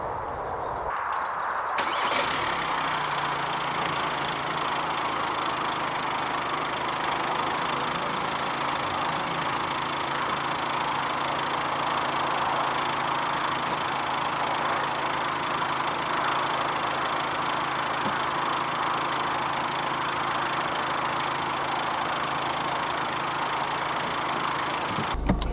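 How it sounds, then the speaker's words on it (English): Audi A3 Cabriolet diesel engine starting and then idling with a steady, even clatter and hum, close by and constant with no talking. "This is diesel powered."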